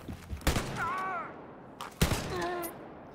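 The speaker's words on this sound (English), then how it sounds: "Shotgun is crazy powerful, but of course slow." A shotgun fires in the video game Wolfenstein: Youngblood: two loud, close blasts about a second and a half apart, with a voice talking between them.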